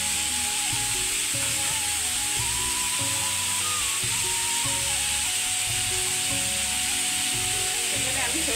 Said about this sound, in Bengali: এখানে আমি সরষে বাটাটা দিয়ে দিচ্ছি।